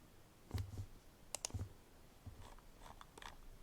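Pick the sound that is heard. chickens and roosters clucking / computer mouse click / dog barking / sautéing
computer mouse click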